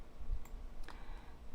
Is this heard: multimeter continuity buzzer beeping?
no